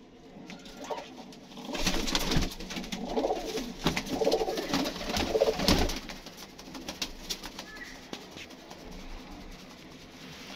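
Pigeons released from a loft at a factory coo repeatedly near the microphone, soft rolling calls rising and falling over several seconds, with a few faint wing flaps and no talk.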